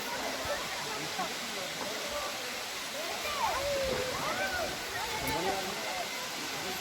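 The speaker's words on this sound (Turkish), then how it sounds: "Akan su şelalesi." Uçansu waterfall in Antalya roars as a steady, dense wash of falling water close by, with faint chirping whistles over it throughout.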